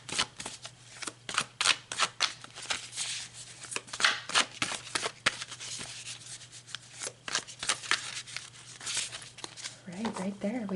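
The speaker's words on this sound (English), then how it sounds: "We didn't need to shuffle too much." Tarot cards being shuffled in the hands, a quick run of crisp riffling flutters and slaps in irregular bursts, close and fairly quiet, with a brief voice near the end.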